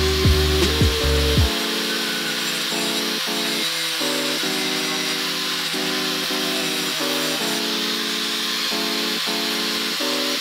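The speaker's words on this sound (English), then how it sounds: "We're gonna chop a little bit of this off right here with the grinder." An angle grinder cuts off part of a mirror outdoors, a loud steady high whine with a hissing edge and pulsing stepped tones, running continuously after a brief lower rumble at the start.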